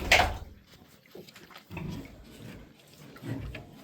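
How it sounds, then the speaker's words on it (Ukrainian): Large White x Landrace piglets eating starter feed give short, low grunts at irregular intervals, close and fairly quiet, with a sharp squeal-like burst at the start. "Так що ось такі поросятка"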